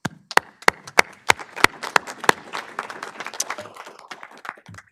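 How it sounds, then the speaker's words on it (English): Scattered applause for a county board of commissioners, starting with a handful of loud, distinct individual claps in a slow rhythm, then thickening into a thinner, uneven patter from a small group before trailing off. "And so I want to applaud all of you."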